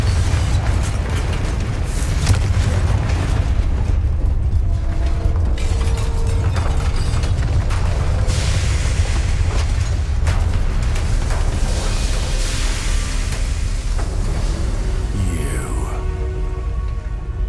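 Confringo fire spells blast in Hogwarts Legacy gameplay, a dense wash of crackling explosions, booms and debris noise running continuously with mechanical clatter and game effects, loud throughout.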